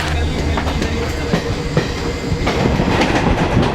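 A train rolling along rails on the way to Kashmir, a loud, steady rumble with rhythmic clickety-clack wheel beats, heard close and continuous throughout, with no talk.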